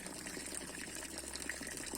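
Water rushes through a 200 m micro hydro pipe, a steady hissing, gurgling flow at moderate level, continuous and unbroken for the whole moment.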